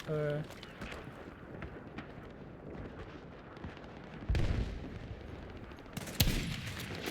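Gunfire in a first-person shooter game: a few sharp shots and bursts cut through low background game noise, with people talking in the clip.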